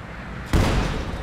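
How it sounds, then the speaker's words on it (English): An artillery barrage in the real-time strategy game Company of Heroes 2 strikes with a sudden loud boom that gives way to a sustained rumble of shelling, following a quieter stretch of background battle noise. "And a nice barrage going in there from Hansmoleman in hopes of killing some of the snipers"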